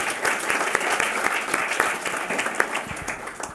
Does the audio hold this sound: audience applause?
yes